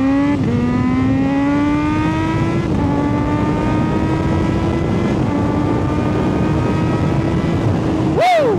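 A Kawasaki Z H2 motorcycle engine held by launch control near 6,250 RPM, a loud close steady drone with a slight rise, then a sharp rev spike just before the end.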